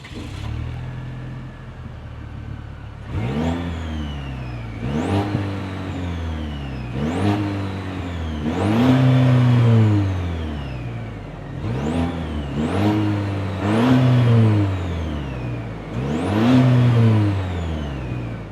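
A 2026 Chevrolet Colorado ZR2's turbocharged 2.7-liter TurboMax four-cylinder engine idles, then revs repeatedly in sharp bursts that rise and fall, loud and close, with a whooshing turbo whine on each rev.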